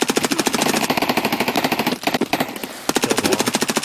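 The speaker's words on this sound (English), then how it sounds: "Oh, I got shot at. He's shooting at me." Rapid automatic gunfire from an Escape from Tarkov firefight rattles loud and close in long rhythmic bursts, breaking off briefly near the middle before another sustained burst resumes.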